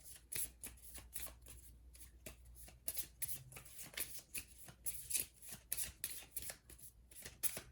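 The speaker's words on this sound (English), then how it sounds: "Just shuffle up his discard pile." Playing cards from a discard pile are shuffled during a tabletop card game, giving a run of crisp, riffling clicks and flutters in quick bursts over about eight seconds, close and moderately loud, with no talking.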